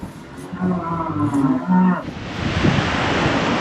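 Friesian cattle in a farmyard give a long, loud moo close by, followed by a second, breathier low call and then steady windy rushing.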